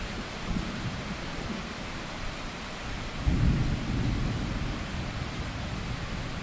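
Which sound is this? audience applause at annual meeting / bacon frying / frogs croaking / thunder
thunder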